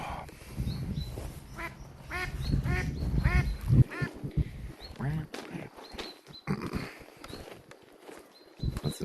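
Ducks quack in repeated short bursts near the listener outdoors in Austria, clustered loudly in the first few seconds and then scattered, with people talking over and between the calls.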